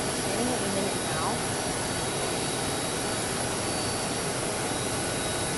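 A jet aircraft engine whines and roars steadily after a plane has landed at Augusta, a loud, constant broadband drone for several seconds, with faint voices in the background.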